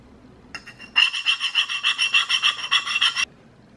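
A small plastic scraper from a resin printer rasps back and forth across a laser-engraved tile in a quick run of about a dozen close, even scraping strokes, with a single softer scrape just before them.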